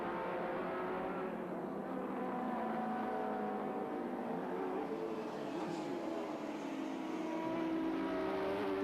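Touring race cars at Sandown in 1984 drone past with a sustained engine note that rises and falls as they lap, heard fairly faint and distant at the circuit.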